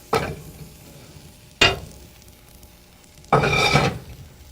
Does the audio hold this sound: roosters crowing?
no